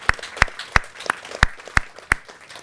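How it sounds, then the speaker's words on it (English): Audience clapping for competition winners at a creative advertising event, a short burst of sharp, evenly spaced claps close and loud, with no voices over it. "huge round of applause."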